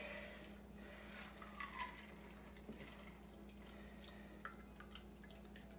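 A chilled cocktail, poured by hand into a martini glass, trickles and drips softly at close range over a faint background hum.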